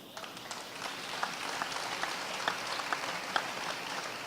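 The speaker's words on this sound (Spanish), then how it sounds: "Yo daría un aplauso a eso." Audience applause at a pastors' panel event, faint and somewhat distant, a steady patter of clapping with scattered sharper claps.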